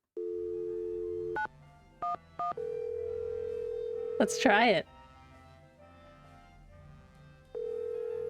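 Telephone dialing in the Nancy Drew: The Final Scene video game: a steady dial tone, then a few short keypad tones and a brief warbling sound before the dial tone resumes. A voice speaks briefly over it.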